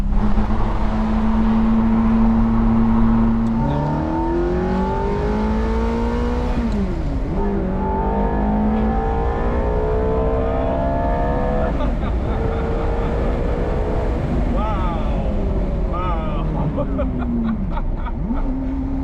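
A gated manual Ferrari F430's engine revs up hard through the gears, its pitch climbing and dropping at each of several shifts, loud and sustained from inside the cabin.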